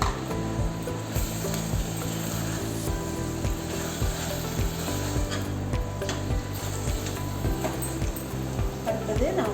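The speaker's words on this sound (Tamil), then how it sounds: "அந்த ஒரு தக்காளியை வந்து இது சேர்த்துருவோம். இதுவும் வதங்கட்டும்." Tomato sautéing in a pan for chicken biryani, a steady sizzle with repeated rhythmic scraping strokes of a spoon against the pan, close and continuous.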